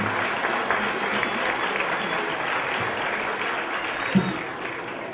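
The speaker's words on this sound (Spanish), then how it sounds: "Démosles un aplauso" Sustained, dense applause from families and friends at a high school graduation ceremony, a continuous even wash of clapping that fills the hall without a break.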